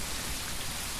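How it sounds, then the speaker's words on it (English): Steady rain pours in the game Tourist Bus Simulator, a soft even hiss of falling drops heard alone and fairly quiet across the short moment. "it's raining and thundering"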